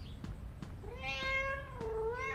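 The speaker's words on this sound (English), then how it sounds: "And what is this cat called?" A cat in the video game Into the Pit gives a long drawn-out meow, clear and close, preceded by a few soft taps, with no talking.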